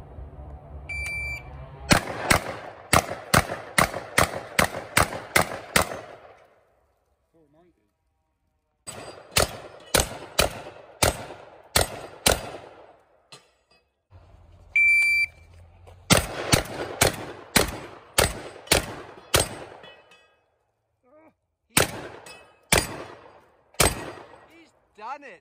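A Beretta 1301 Comp Pro shotgun fires fast, loud strings of five to eight blasts at steel targets, each shot sharp with a ringing metallic hit. The strings are separated by short pauses.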